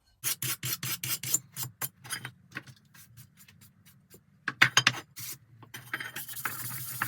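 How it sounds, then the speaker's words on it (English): Stanley blade scraping silicone off a DRZ 400 motorcycle part, a run of short rasping strokes up close, some quick and clustered, others spaced out, ending in a longer rough scrape, with no talking. "use a Stanley blade just to clear off as much of the silicone as I can"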